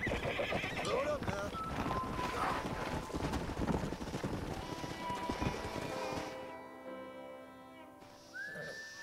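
Horses in Red Dead Redemption neigh and whinny over clip-clopping hooves, busy game sound and background voices, then the scene quiets near the end as a final neigh rings out.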